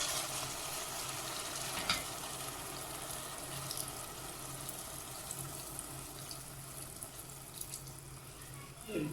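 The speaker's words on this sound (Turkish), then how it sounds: "Suyunu dökeceğiz." Water poured into a pan over olive oil while cooking, a steady wash of splashing and sizzle running close and moderately loud throughout, with a brief louder spurt near the start and another at the very end.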